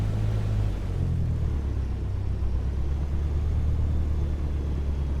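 A simulated Cessna 150 engine settles into a low, steady rumble once the throttle is pulled back to 1,000 rpm, a deep drone heard alone with no voices.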